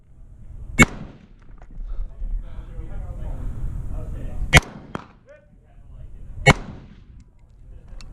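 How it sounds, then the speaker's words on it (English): Rifle shots ring out against steel plate targets at a shooting competition, three sharp loud cracks spaced irregularly over a background of low rumble and muffled activity, with a brief fainter knock between them. "I only sent a few extra shots after the mandatory top and bottom plate hits"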